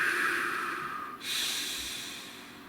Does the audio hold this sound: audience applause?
no